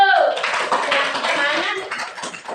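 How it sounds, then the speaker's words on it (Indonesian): Classroom students clapping during a group science lesson, a short burst of uneven hand claps mixed with children's voices and chatter, fairly close and loud. "Ya, kasih tepuk tangan dulu."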